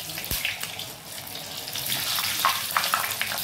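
Kothimbir wadi deep-frying in very hot oil: a steady, dense sizzle and crackle that carries on evenly throughout, with no talking.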